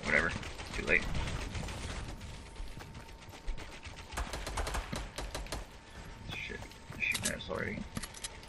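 Video game gunfire in Fortnite crackles in short bursts of rapid shots, moderately close, while people talk over it.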